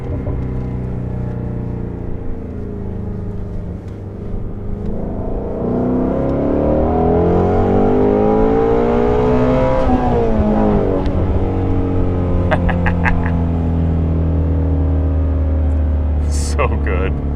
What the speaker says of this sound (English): I forgot how much I enjoy rev matching on my own.